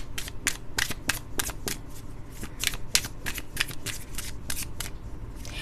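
Tarot cards shuffled continuously by hand, a fast, even run of crisp flicking slaps, close up and steady in loudness throughout.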